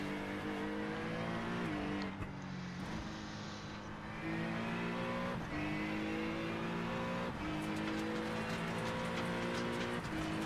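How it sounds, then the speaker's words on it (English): A GT3 race car in a racing video game drives loud and continuous, its engine note climbing and dropping through repeated gear shifts, with gravel rattling against the wheel wells and brief tire scrubs. "You can hear that gravel kicking around on the wheel wells of the car."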